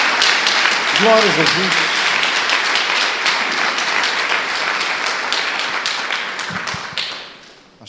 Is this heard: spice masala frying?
no